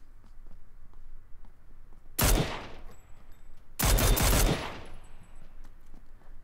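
Two loud, close bursts of rapid automatic gunfire from PUBG, each lasting under a second, separated by a short pause over a low background hum.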